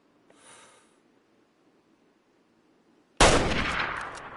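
A hunting rifle in Way of the Hunter fires a single loud, close shot that cracks suddenly and trails off into a long rumbling echo, following a stretch of near silence with a faint earlier rustle.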